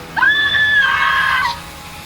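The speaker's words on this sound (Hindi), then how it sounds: "जंगल में औरत की चीख गूंज उठी" A woman in a forest lets out one loud, sustained scream of about a second and a half that cuts off sharply and stands alone.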